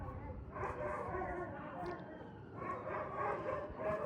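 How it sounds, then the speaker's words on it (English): Several dogs bark and yip in a small Arizona town after fire engines pass, a mix of near and more distant barks repeating in bursts over constant background noise. "the dogs decided to queue in"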